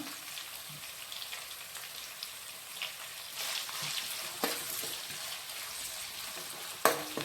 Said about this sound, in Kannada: ಉಳ್ಳಾಗಡ್ಡಿ ಚಲೋ ಸುಡ್ಬೇಕ್ರಿ